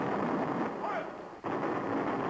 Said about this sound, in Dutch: Duitse kanonnen, Duitse bommen, beukten de stad tot puin.